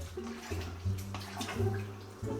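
Homebrew beer wort from a canned brew kit with mint being stirred in a fermenter: steady watery sloshing and swirling, close and continuous, with no talking.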